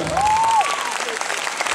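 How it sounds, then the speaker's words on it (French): Audience applause at a live hypnosis show, a steady dense clatter of hands filling the room, with a voice rising briefly over it near the start. "On applaudit bien fort Isabelle"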